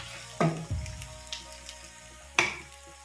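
Minced garlic dropped into translucent onions frying in a pan, with a sudden sizzling burst, a brief stir, then a second sharp sizzle as more goes in, close and fairly loud.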